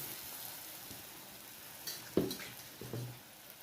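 Dahi vada batter fries in oil over low heat, giving a soft, steady sizzle with a few small pops and clicks near the end.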